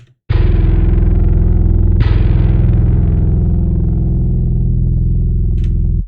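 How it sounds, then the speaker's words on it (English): A Loki bass software instrument plays alone, a dry, thick low bass tone struck twice, each note loud and sustained before ringing down and cutting off. "I'm using an instance of Loki bass as like my main bass,"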